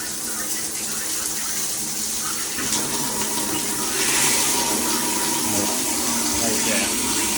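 Water running from a bathtub tap into a bucket, a steady close splashing gush that continues for the whole stretch with no break.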